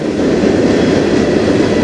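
A CN freight train passing close by on the Strathroy Subdivision, a steady loud rumble of rolling railcars with no pauses or talk.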